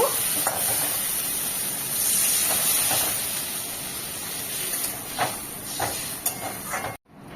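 Water poured into a pan of fried spice masala with turmeric for a Bengali pabda fish curry with potatoes, giving a steady close hiss and sizzle with faint stirring clinks throughout, cutting off abruptly near the end.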